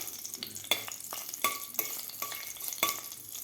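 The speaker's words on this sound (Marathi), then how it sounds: "काही खडे मसाले आपल्याला व्यवस्थित परतून घ्यायचे आहेत" Whole spices, including small cinnamon pieces, sauté in a pan as the base for an Indian-style chicken soup. Soft, steady sizzling runs throughout, with repeated scraping strokes of a stirring spoon at a fairly even rhythm.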